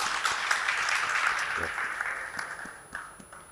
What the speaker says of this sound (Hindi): आपकी भरपूर तालियों में किसी तारुफ के मोहताज नहीं है राशिद लतीफ़ साहब